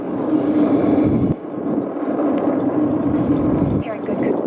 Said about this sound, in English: All 4 RS-25 engines on the core stage, solid launch boosters are now propelling the vehicle